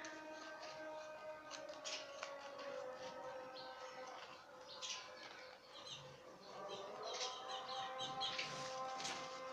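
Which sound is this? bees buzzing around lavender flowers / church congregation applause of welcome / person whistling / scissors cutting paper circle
scissors cutting paper circle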